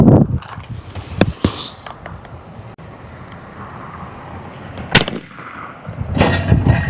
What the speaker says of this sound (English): Ready to shoot.